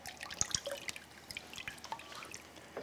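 Raw chicken rinsed under cold water in a kitchen sink, giving a faint, close run of drips and splashes with small irregular spatters throughout.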